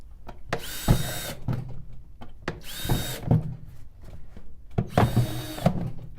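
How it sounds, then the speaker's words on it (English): A power drill boring holes in wood, three separate bursts of high whining spin with rising pitch, each lasting about half a second to a second, with clunks and handling noises between them, close and clear. "I'm going to drill some more holes here"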